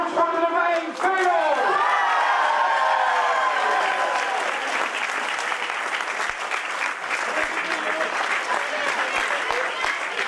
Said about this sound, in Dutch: Applaus voor de nummer 1